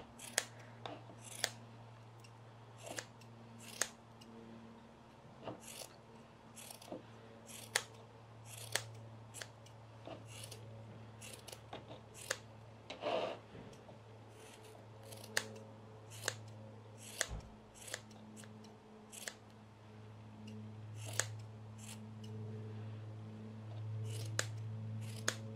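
Scissors snip through yarn while trimming a pompom, giving a steady series of short, crisp cuts at close range over a low background hum, with no talking.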